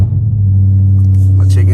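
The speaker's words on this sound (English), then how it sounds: "So let me crank the car up." Dodge Charger Scat Pack V8 idling with a loud, deep, steady rumble heard close by just after starting, while someone talks over it.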